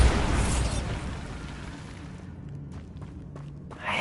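A Bombarda spell explosion in Hogwarts Legacy bursts loudly at the start, followed by a softer rumbling decay with a few faint thuds and a brief rise at the end.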